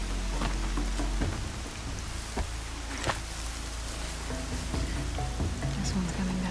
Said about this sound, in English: Yeah, it's raining pretty good